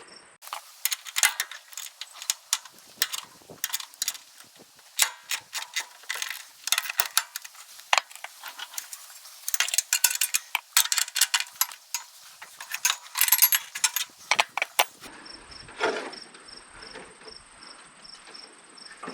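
Ratchet clicks from a socket wrench loosening a 15/16 bolt, with a wrench holding the back, come as rapid bursts of close, crisp ticking; the burst pattern changes near the end to a steady faint high tone with light taps.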